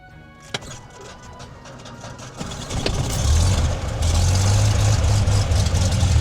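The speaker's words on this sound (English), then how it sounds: "Let me start the engine" A small two-seater airplane engine cranks and catches with a few clicks, then settles into a loud, steady rumbling idle close by.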